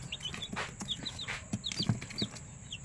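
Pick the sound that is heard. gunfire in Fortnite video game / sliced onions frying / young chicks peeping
young chicks peeping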